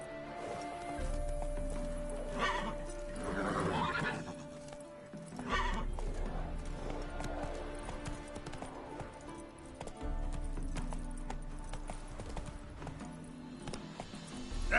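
Roach, Geralt's horse in The Witcher 3, gallops with rapid clip-clop hoofbeats and lets out several loud neighs and whinnies, layered over game music and ambience, with surges of louder galloping at intervals.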